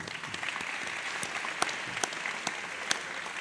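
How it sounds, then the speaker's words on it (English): Audience applause at an author event, a steady patter of many hands with a few sharper, louder claps standing out close by. "another round of applause for Bradley Hart and Garrett Graff."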